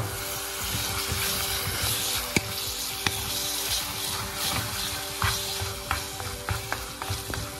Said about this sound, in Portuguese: Vou colocar a carne aqui agora.